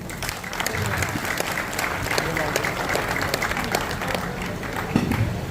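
A gathered crowd breaks into hearty applause at a welcome ceremony, many hands clapping steadily for several seconds, with voices faintly underneath.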